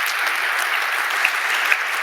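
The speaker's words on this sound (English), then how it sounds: "Round of applause for Lex." Conference audience applauding a speaker on stage, a dense, even burst of clapping from many hands heard close and loud throughout, with no one talking over it.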